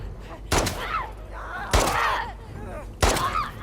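Three separate gunshots in The Last of Us Part II, sharp loud blasts spaced about a second apart amid quieter game ambience.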